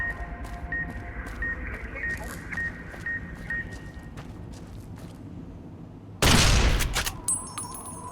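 A single loud gunshot rings out in Fallout: New Vegas, a sharp broadband crack about three quarters of the way in, preceded by quiet game ambience with faint beeps and footsteps.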